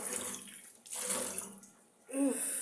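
Tap water runs steadily into a sink while rohu fish are rinsed, a close hissing flow that dips briefly in the middle and then swells again.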